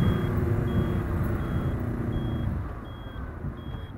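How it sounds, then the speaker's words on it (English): A steady electronic motorcycle turn signal buzzer beeps at a regular rhythm, about once every 0.7 seconds, over the low rumble of an idling motorcycle engine. "It's really audible, the buzzer."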